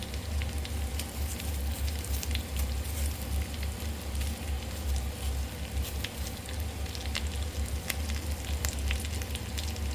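Mutton pieces frying in a pan, a dense continuous sizzle with crackling pops scattered throughout, steady and fairly loud with no talking.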